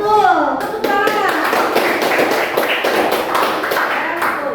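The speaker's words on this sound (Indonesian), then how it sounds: "Iya, betul. Tepuk tangan." Students clap together in a classroom, a brisk burst of hand claps that runs steadily for several seconds, mixed with children's voices.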